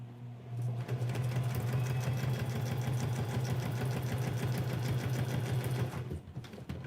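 Sewing machine stitching in one continuous steady run for about five seconds, a close, loud, even motor hum with rapid needle rattle, starting and stopping cleanly.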